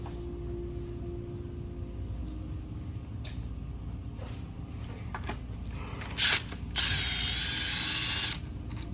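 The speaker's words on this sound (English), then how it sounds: "We're also going to remove the time chain tensioner, which takes T30 to release the bolt." Ratchet wrench releasing the T30 bolt on the timing chain tensioner of a Rolls-Royce V12 engine, a few faint clicks followed by a longer steady burst of rapid ratcheting near the end, over low workshop hum.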